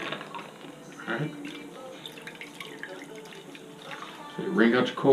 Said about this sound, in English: So you wring out your cold water